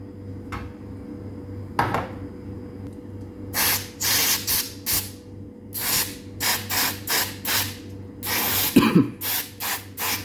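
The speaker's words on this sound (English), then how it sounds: "then I will try to spray with WD-40 here" Several short bursts of WD-40 aerosol spray on an infrared cooker's knob, hissing in quick succession over a steady low mechanical hum, with no talking.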